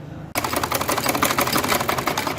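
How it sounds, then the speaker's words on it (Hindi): Sewing machine stitching folded cord piping fabric, starting abruptly and running at a fast, even clatter of rapid needle strokes, close and alone. "अब ये जो हम डोरी पाइपिंग वाले कपड़े हैं जिसको हमने फोल्ड कर लिया था, मैं उसको सिलाई लगा रही हूँ।"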